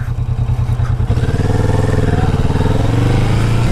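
Kawasaki Vulcan S motorcycle engine while riding, a loud close pulsing rumble with rapid low firing beats that rises and steadies as the bike pulls along.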